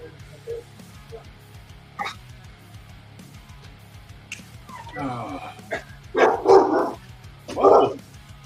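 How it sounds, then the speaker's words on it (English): A large mastiff barks a few times at a distance, deep booming woofs arriving in a short cluster near the end after quieter stretches with faint voices underneath. "he's probably barking at like nothing, like somebody walking by"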